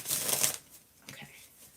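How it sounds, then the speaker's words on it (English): Tarot cards shuffled by hand, a dense riffling burst for about half a second, then a quieter second flutter of cards, close and alone. "That was a bad shuffle."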